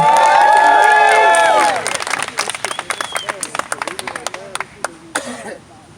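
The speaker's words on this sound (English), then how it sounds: "Give a round of applause." A crowd at a rally-style panel event cheers and whoops over clapping, then the voices drop away and scattered, uneven claps trail off before fading to near silence.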